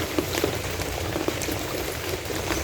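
Heavy typhoon rain patters steadily on a surface in the rural Philippines, a dense continuous hiss with occasional louder drops, no voices.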